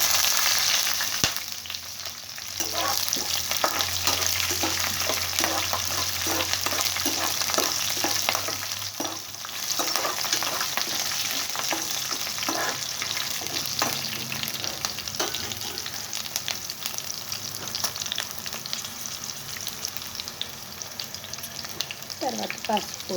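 Green chillies sputter and crackle in hot oil for lemon rice, a dense, loud sizzle with sharp popping bursts throughout, plus occasional stirring scrapes and no talk.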